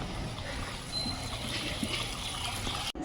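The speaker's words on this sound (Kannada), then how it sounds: "ಈ ಮನೆ ಒಳಗಡೆ ನೀರು ತುಂಬಿ ಅದರ ಒಂದು ಬಸಲ್ ಮನೆಯಿಂದ ನೀರು ಯಾವ ಫೋರ್ಸಲ್ಲಿ ಹೊರಗಡೆ ಬರ್ತಾ ಇದೆ ಅಂತ ನೀವೇ ನೋಡಿ" Floodwater forcing its way out of a locked, flooded house in a town street, a steady rushing trickle and splash that holds close and even throughout, with a brief sharp knock near the end.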